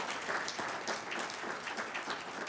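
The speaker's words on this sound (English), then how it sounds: "Let's give them another round of applause." An audience claps for commissioners at a youth human rights awards ceremony, a steady patter of many hands at moderate distance that holds even throughout with no voices on top.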